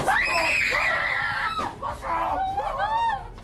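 A woman screams in fright at a prank clown on live TV, one long, loud, strained shriek followed by shorter panicked cries and gasps, close and raw.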